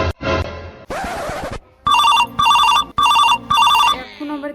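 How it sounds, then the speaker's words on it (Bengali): A telephone rings loudly and close in a series of four regular bell bursts with brief gaps between them, preceded by other loud noises and a short voice-like sound. "এখন আবার কে ফোন করে?"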